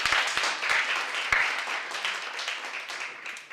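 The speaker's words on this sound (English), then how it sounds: "One more round of applause for them, everyone." Applause from an audience at a county commissioners' special presentation, a steady dense patter of many hands clapping throughout, with a few sharper individual claps near the start and no talk over it.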